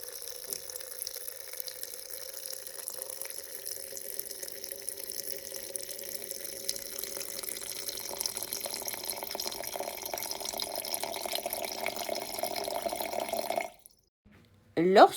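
Tap water runs steadily into jars of citrus peels, a continuous splashing pour that stops abruptly near the end.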